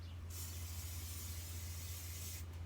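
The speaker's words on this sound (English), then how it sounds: "It's the only one I know you can spray to vertical surface." A single continuous spray of aerosol lubricant hisses loudly for about two seconds, then cuts off, over a steady low hum.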